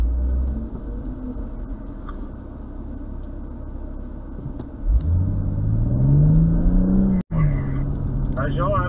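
A BMW car's engine drones steadily on a slalom course at a performance driving school, then revs up with rising pitch as it accelerates, close and loud, with brief speech toward the end.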